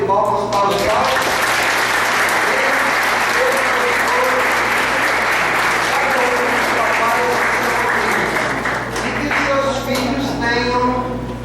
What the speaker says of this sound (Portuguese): Podemos dar uma salva de palmas para os pais?